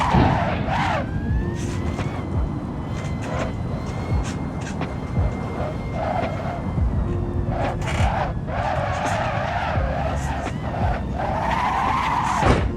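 Tires of a heavy three-ton Tesla Cybertruck skid continuously in Assetto Corsa on the Akina downhill course, a loud sustained squeal with rising and falling whines over steady engine roar.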